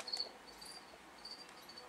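Steady high-pitched cricket chirps, from feeder crickets for pet reptiles, trill in short repeated bursts, fairly close, with a faint hiss of background noise and no voices.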